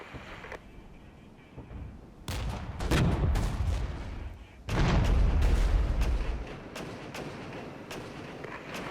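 Heavy bursts of gunfire and booming artillery from the Cold War tactics game Regiments, with dense volleys and thudding blasts rolling in waves, loudest around the middle, over a steady battlefield rumble.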